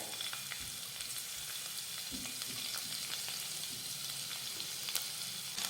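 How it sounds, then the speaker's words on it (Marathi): Seven or eight crushed garlic cloves sautéing in oil with cumin, a soft, fairly quiet continuous sizzle with faint crackles and light stirring, no talk. "आता हा लसूण परतून घेऊयात लसणाचा कच्चेपणा दूर होईपर्यंत आपल्याला हा लसूण परतून घ्यायचा आहे"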